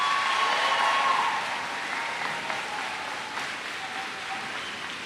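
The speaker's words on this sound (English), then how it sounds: "let's give these guys one more round of applause and congratulations" Audience applause at a graduation ceremony, a broad steady wash of clapping that holds fairly loud for the whole stretch, easing slightly after the first second, with no voices over it.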